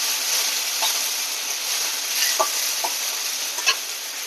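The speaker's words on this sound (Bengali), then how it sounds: "পেঁয়াজটাকে এবার আমি সুন্দর করে ভেজে নেব।" Grated onion frying in a pan, giving a steady, fairly loud sizzle with a few faint scrapes of stirring on top.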